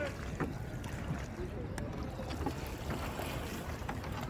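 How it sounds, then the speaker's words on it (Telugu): A boat moves on the river at Triveni Sangam in Prayagraj, with a steady wash of water and wind noise around it and a faint background voice. "త్రివేణి సంగమం బోటింగ్ చేస్తున్నాము"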